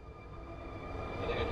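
Locomotive engine idling and building in the Run8 train simulator, a low steady diesel drone with faint tonal whine, growing slightly louder over its short span.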